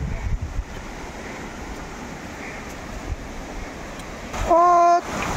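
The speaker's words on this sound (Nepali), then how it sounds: "कञ्चनजङ्घा जस्तै बगेको यो पानी कललल्ल बगिरह" Mountain river water rushing steadily below Machhapuchhre on the trail to Annapurna Base Camp, a continuous broadband roar with wind buffeting the microphone and a brief tonal beep near the end.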